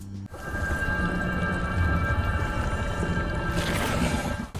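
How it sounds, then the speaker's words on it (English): A steady electronic drone with shimmering, chime-like tones holds throughout, swelling brighter near the end; a growth's sound cue in Black Ops zombies, Sundergat. "The specific growth that we are looking for will emit a droning sound that sort of sounds like wind chimes."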